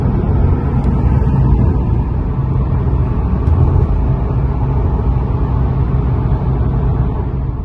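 Steady low road rumble inside a 2003 Toyota Prius driving through town, a constant dense drone of tyres and cabin noise with no speech.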